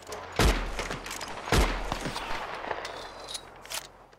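Gunfire in the Red Dead Redemption 2 online game, two heavy booming shots followed by a scatter of lighter distant pops over a rumbling background.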